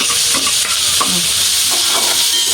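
Steady, loud sizzling of onions frying in hot oil, with occasional stirring scrapes and crackles throughout.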